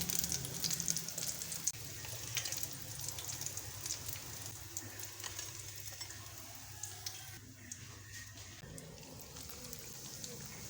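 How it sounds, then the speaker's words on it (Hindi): Vegetable and potato snacks deep frying in hot oil, a steady crackling sizzle with fine popping that runs continuously at moderate loudness, with no voices. "स्नैक्स हमारे फ्राई हो गए हैं ज़बरदस्त से।"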